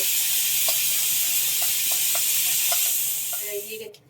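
Mustard seeds sizzle and pop in hot oil for tempering, a loud, continuous frying hiss with scattered small crackling pops, close by, fading down at the end.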